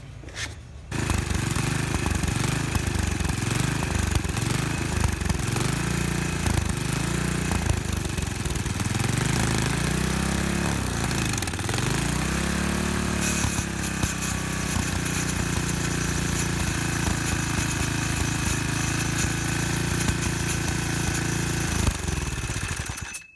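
Small running engine fed with thermite and magnesium, a loud steady rattling drone with rhythmic surging early on, a dip and recovery midway, then an even hammering roar until it cuts near the end.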